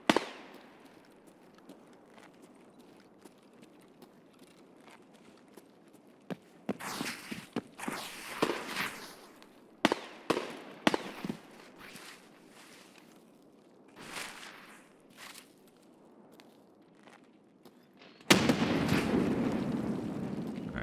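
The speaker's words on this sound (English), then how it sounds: "someone just threw a grenade over there" Grenade explosion in a video game: muffled, distant blasts and crackling bursts between quiet footsteps, ending in a louder, sustained rumbling burst.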